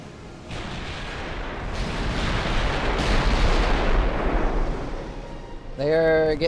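Warship turrets fire in the video game Ultimate Admiral: Dreadnoughts, a sustained roar of overlapping heavy booms and rumble that builds and lingers, and a voice briefly speaks at the end.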